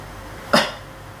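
A single short, close cough bursts out once against a quiet background during a self-ruqyah session.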